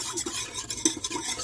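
Bread ingredients and yeast being mixed together in a Ninja Foodi pot, with a series of short, close scraping and stirring strokes in an irregular rhythm and no talking.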